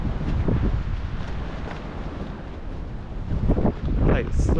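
Gusty coastal wind blasts the microphone on a walk between Wadebridge and Newquay. A steady rumbling roar rises into heavier buffets near the end.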